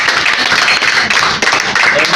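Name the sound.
applause in church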